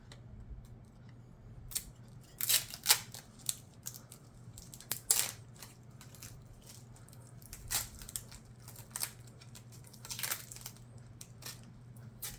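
Protective film is peeled off PC build parts, giving sharp, irregular crackling snaps and rips close by over a low steady hum, with no talking.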